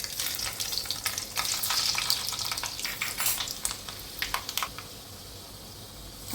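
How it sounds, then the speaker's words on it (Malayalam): Mustard seeds hitting hot oil for a Kerala rasam, a dense crackling sizzle with sharp pops and spatters that thin out toward the end, with no talking. "നമുക്ക് കടുകിട്ട് കൊടുക്കാം"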